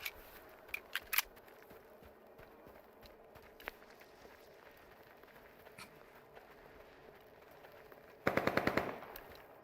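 Gunfire in S.T.A.L.K.E.R. 2: scattered single distant shots and clicks over quiet ambience, then a loud close burst of rapid automatic fire near the end.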